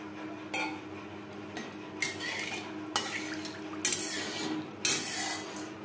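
Water poured into a pan on a gas stove turned up to high flame while cooking silver carp curry, with metallic clinks and stirring scrapes, close and moderately loud.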